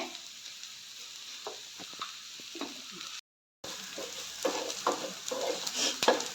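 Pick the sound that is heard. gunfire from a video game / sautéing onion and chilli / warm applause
sautéing onion and chilli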